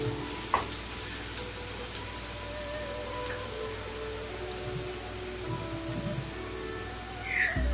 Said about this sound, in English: 10 garlic cloves which is crushed, let's saute it for about 2 minutes till all the aroma is well released in the oil.